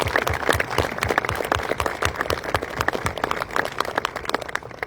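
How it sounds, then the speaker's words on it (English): Families, parents and loved ones of new Marines clap at a Marines ceremony, a busy scatter of individual hand claps from a moderately distant crowd, steady throughout without voices on top. "families, parents, loved ones, give yourselves a round of applause"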